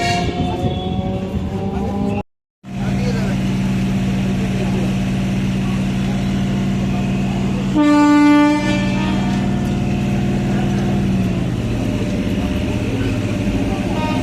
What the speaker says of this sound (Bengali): তো কল্যাণী সীমান্ত লোকাল এখন ছাড়বে।